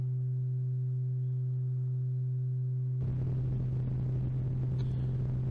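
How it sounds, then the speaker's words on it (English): White noise patched into a filter on the Moog Model 15 iPad synthesizer app comes in abruptly as a loud, steady broadband hiss over a sustained low tone, holding evenly to the end with no talking. "let's shove some white noise into it and see how that sounds"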